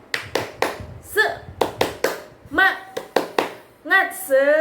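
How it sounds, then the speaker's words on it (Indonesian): A group performs the 'tepuk semangat' rhythmic clapping cheer during a classroom microteaching lesson, crisp patterned claps in short bursts alternating with chanted voices. "kita tepuk semangat dulu bareng-bareng"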